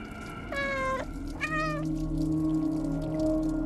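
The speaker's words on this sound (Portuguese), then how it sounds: "Os gatos estão miando." Two cats meow in the video game Stray, two drawn-out rising-and-falling cries in quick succession over a low ambient hum, fairly quiet and alone.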